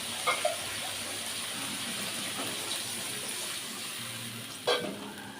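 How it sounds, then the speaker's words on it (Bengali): A little water splashes into eggplant frying in a pan, giving a steady hiss and sizzle with a couple of brief sharper bursts near the start and near the end. "এবার আমি দিয়ে দেব একটুখানি জল"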